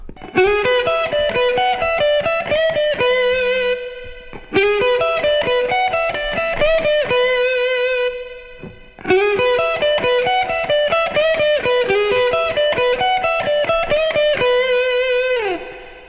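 A distorted electric guitar plays a blues lick in three repeated phrases of bent and sliding notes, loud and close with sustained overdriven tone, no talking.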